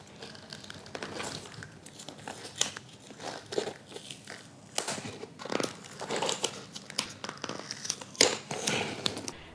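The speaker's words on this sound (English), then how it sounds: "Next, we need to remove the foam pad which are installed from the factory." Foam pad being peeled from inside a Rlaarlo Omni Terminator RC car, giving close, irregular crinkling and tearing rustles in scattered bursts with no talk.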